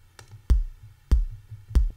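Three clean kick drum hits made in Ableton, evenly spaced, each a deep punchy thump with a short click on top, alone with nothing else playing.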